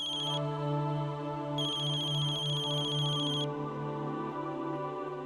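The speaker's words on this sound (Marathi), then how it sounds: "आता कुणाचा फोन?" A mobile phone ringtone plays alone in short melodic bursts. It is clear and fairly close, with two bright repeated phrases in about five seconds.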